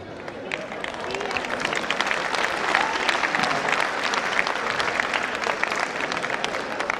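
Stadium audience at a disability summit applauding performers, a thick continuous wash of clapping from a large crowd, steady and fairly loud for several seconds.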